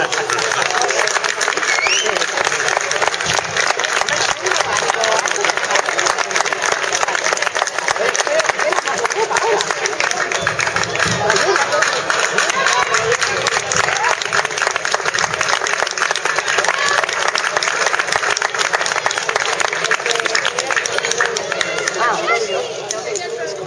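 Audience at a Galician cultural centre event applauds in a long, loud, unbroken roar of many hands, with crowd chatter and voices mixed through it.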